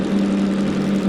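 A DM2N diesel shunting locomotive in Derail Valley runs with a steady, loud droning hum, constant and unbroken throughout.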